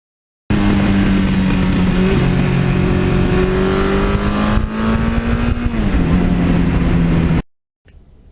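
A 1982 Suzuki GS1100E motorcycle revs hard through the gears. The engine note climbs through several steps with a short dip at each shift, loud and close for about seven seconds, then it cuts off abruptly.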